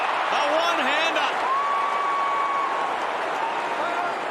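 Broad crowd roar from an AFL football match between Carlton and St Kilda, a sustained wash of cheering and applause at steady loudness, with a commentator talking over it at first and a thin whistle-like tone running through the middle.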